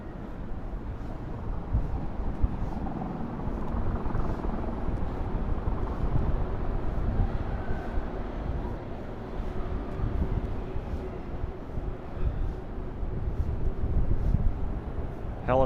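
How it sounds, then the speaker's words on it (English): A helicopter lifting off from a heliport on the Hudson River, a steady broadband rumble heard at a distance, continuous throughout and partly blended with breezy wind on the microphone. "helicopter just took off from the heliport over there on the Hudson River."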